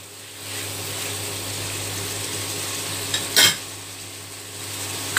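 Squid with black beans and green pepper stirred in a hot pan, a steady sizzle under a scraping utensil, with one sharp louder clatter of the spatula against the pan partway through.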